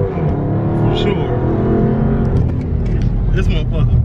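A 2022 Dodge Charger SRT Hellcat Widebody drives along, its loud, steady engine rumble and road roar running throughout while people talk inside the car.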